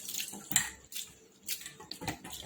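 Poha is washed with water in a bowl, soft, intermittent swishes and splashes of water, quiet and close, in a few short bursts.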